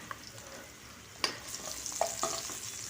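Potatoes and onions frying in hot oil for a Bengali hilsa fish curry with eggplant, a steady sizzle with a few sharp stir clicks and scrapes of the spatula against the pan, close and moderately loud, no voices.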